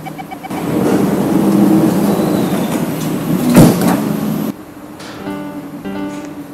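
Train doors slide shut at a station platform with a rushing mechanical whoosh and a sharp thud near the middle, followed by quieter rhythmic electronic beeping.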